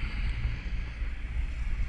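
A motorboat heads out of Molongle Creek at dawn, a steady loud low engine rumble mixed with wind buffeting the microphone and rushing water, continuous and close with no talking.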